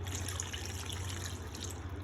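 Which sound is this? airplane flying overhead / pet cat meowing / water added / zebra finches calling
water added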